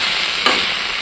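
Onion, cabbage, peas, capsicum and potato frying in oil in a home kitchen, a steady close sizzle with a couple of brief stirring scrapes, no talking.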